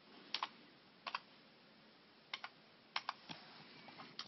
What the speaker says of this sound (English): So I've typed in the word stop.